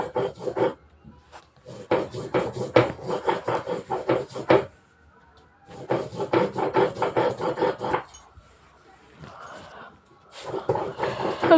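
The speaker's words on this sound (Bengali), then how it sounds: "এখন মশলা বেটে নিচ্ছি আমরা তো আবার প্যাকেটের মশলা খেয়ে নাই তো বেটে বেটেই খাই পাটাতে বাট শিল পাটাতে বেটে আমরা খাই" Spices ground on a stone shil pata, rhythmic rough scraping strokes in loud bursts separated by short pauses, close and without talk.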